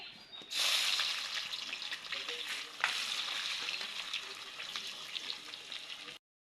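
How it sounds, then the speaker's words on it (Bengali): Sliced onions deep-frying in plenty of hot oil for biryani birista, a steady loud sizzle with crackling bubbles that surges once midway and runs continuously until it cuts off. "এবার অল্প অল্প করে ভেজে নিব, তেল গরম হয়ে গেছে"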